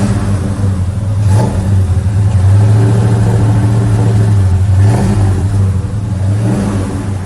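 A 1972 Dodge Charger's restored engine revs loudly up close, holding a strong throttle blip in the middle before dropping and rising again, with no voices over it.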